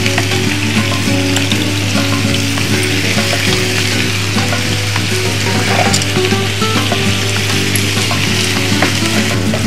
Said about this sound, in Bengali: মশলাটা একটু কষিয়ে নিয়ে তারপরে মাছগুলো একটু কষাবো